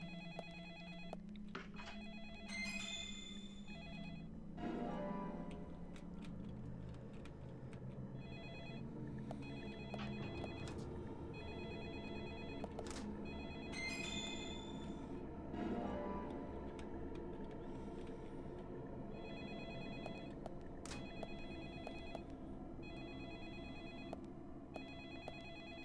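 Telephone in the video game Deadly Premonition rings in repeated electronic bursts at intervals, with a steady ticking clock and ambient game sound beneath.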